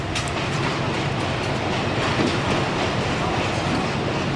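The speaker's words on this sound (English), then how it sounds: "the loco will have to run round to gain access to the secondary main line to Beja" Locomotive hauling a train of sand wagons on a Portuguese freight line, a steady rumbling roll with wheel clatter passing continuously and fairly close, no voices heard.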